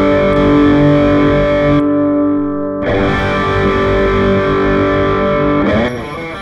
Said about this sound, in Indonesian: drive distorsi high gain.